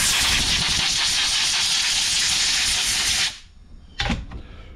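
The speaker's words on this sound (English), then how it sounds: "Drain those compressors." An air compressor tank is drained, letting out a loud, steady hiss of escaping air for about three seconds that cuts off abruptly, followed by a short second burst.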